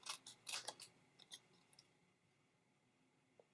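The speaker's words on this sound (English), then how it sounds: "Let's just cut this down a little bit." Scissors snip paper for a handmade Valentine's Day card: a quick cluster of sharp close cuts, then a few scattered softer snips fading into quiet room tone.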